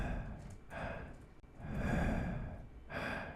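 Breathing of the crawler creature, a lurking monster in a fishing horror video game: three slow, airy swells of heavy breath, close and quiet, with no other sound.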